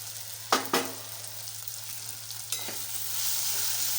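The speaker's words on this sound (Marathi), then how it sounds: "हे छान फ्राय होऊ द्यायचं आहे छान असं फ्राय झालं आहे" Soybean masala with red chili powder and turmeric frying in a pan, a soft continuous sizzle with a few sharp stirring scrapes early on, faint and close, with no talking.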